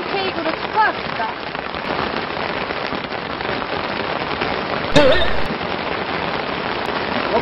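Heavy rain drums on a tarp stretched over a car-camping site, a dense continuous patter with scattered sharper drops and a brief louder burst midway, loud and close throughout.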